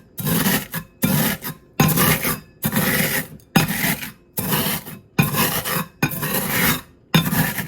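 Frosted Flakes cereal crushed in a bowl by pressing another bowl down on it, rhythmic gritty crunching and rasping strokes about twice per second, close and loud with short gaps between strokes.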